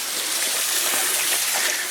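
Waterfall beside a railway trestle in fog, a steady broadband rush of falling water, close and fairly loud, with no voices.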